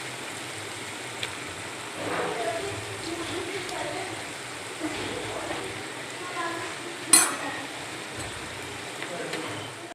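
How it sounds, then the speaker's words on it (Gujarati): Spices being stirred in a pan for fried rice: a steady sizzle of frying with soft scraping and occasional clinks of a spoon against the pan, heard close up beneath a quiet voice. "હવે આપણે આ બધું હલાવી લેવાનું છે."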